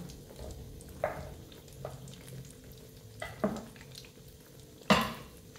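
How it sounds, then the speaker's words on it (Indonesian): Cabbage leaves and other vegetables stirred in a frying pan, with a few scraping clanks of the utensil against the pan over a soft sizzle, the loudest stroke near the end. "dan aduk hingga merata"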